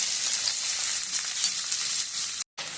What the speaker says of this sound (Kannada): ಎಣ್ಣೆ ಕಾದ್ಮೇಲೆ ಇದಕ್ಕೆ ನಾನು ಈರುಳ್ಳಿ ಹಾಕ್ತಾ ಇದ್ದೀನಿ